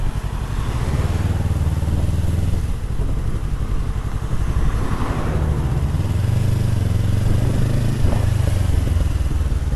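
A stock-exhaust 2022 Yamaha MT-03 motorcycle engine revs loudly and close, its throaty exhaust note rising and falling in repeated blips over steady idle rumble for the whole stretch.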